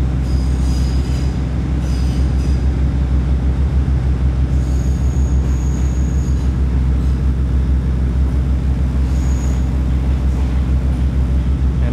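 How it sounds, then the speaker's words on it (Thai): A feeder train runs between Phra Chom Klao and Lat Krabang, heard from inside as a loud continuous rolling rumble with high wheel squeals rising now and then along the track. "นั่งรถไฟในยามเย็น"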